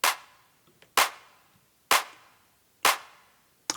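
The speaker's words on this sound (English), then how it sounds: "just to give you a nice fat clap" Four punchy layered clap samples from a music production, each a bright crisp snap with a short decaying tail, spaced evenly about a second apart with nothing else around them.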